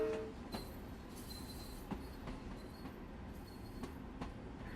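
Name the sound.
LIRR M3 train running on tracks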